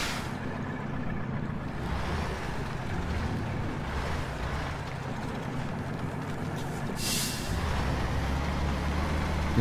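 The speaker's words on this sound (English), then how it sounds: "you can only slip the wheels so far before it starts ripping up the ground" Wheels of a truck in Spintires: Mudrunner spin and slip as they rip up mud, a steady loud engine-and-churn rumble that swells near the end with no voices.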